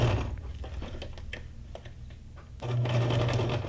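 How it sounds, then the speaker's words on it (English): A sewing machine stitches through layered paper and fabric ephemera for a junk journal, its steady mechanical whir and needle chatter running throughout, quieter in the middle and swelling louder near the end. "the sewing machine actually goes through all the layers."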